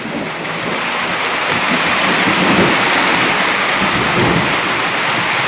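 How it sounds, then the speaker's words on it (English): Heavy rain pours steadily during a thunderstorm, a dense, loud wash of noise with deep thunder rumbling underneath. "Picking up on the rain"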